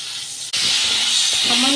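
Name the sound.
water added to frying spice paste, sizzling and steaming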